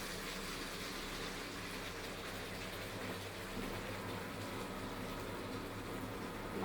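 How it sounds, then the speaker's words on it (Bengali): Rinse water from a bowl pours into a pan of frying tomato, ginger, green chilli and onion paste in oil, a steady rushing hiss and sizzle that holds at an even low level throughout. "বাটিটা ভালোভাবে আমি ধুয়ে জল দিয়ে দিলাম।"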